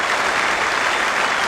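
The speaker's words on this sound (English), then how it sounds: "Generous support from this big crowd at the WACA." A big crowd at the WACA cricket ground applauds in a loud, dense, continuous wash of clapping, steady throughout with no break.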